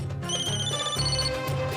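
A telephone rings continuously in a close, electronic warbling pattern, steady and moderately loud for under two seconds, with no talking.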